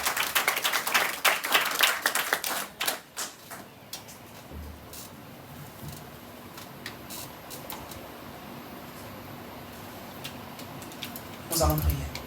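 A church congregation claps loudly together in praise of Jesus, a dense burst of applause that fades within a few seconds into quiet room tone, followed later by a brief rustle.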